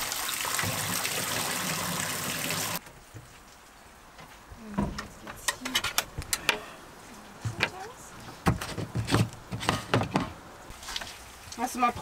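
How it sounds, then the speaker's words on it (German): Mountain spring water runs into a canister at a water point, a steady broadband gush up close for the first few seconds, then gives way to intermittent splashing and handling noises with people talking nearby. "Das Befüllen geht, des Kanisters geht schnell"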